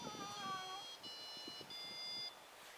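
An ArduCopter 3.4 flight controller on a drone plays its arming tune in throw flight mode: a short series of high electronic beeping tones over steady background noise and faint, scattered knocks.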